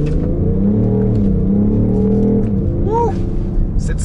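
BMW X5 M50d 2018 with a 3-litre quad-turbo diesel accelerating hard in sport mode, a deep, close engine roar with rising and shifting pitch sweeps, steady and powerful throughout.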